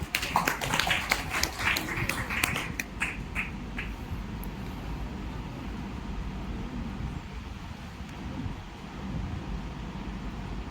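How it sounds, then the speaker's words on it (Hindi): An audience at an indoor World Environment Day event at a science centre applauds to welcome a speaker onto the stage. The clapping is brisk and fairly close for about four seconds, then fades into a low murmuring room hum. "जोरदार ताली से स्वागत करें सर का"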